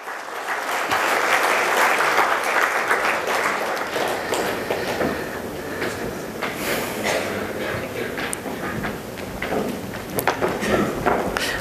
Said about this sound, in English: Can we have a big round of applause for them, please?